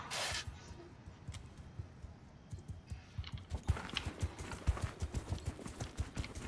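Cavalry horses in the Mount and Blade II: Bannerlord video game, hooves clattering in a rapid, uneven stream of clip-clop beats that grows denser and louder partway through.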